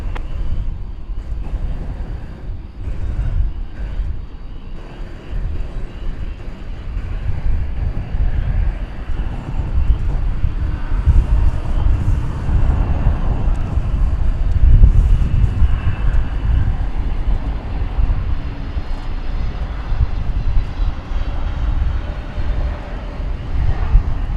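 A Qantas heavy jet lines up on runway 18 left at Dallas Fort Worth airport at night, a steady low engine rumble with wind buffeting the microphone, fairly loud throughout.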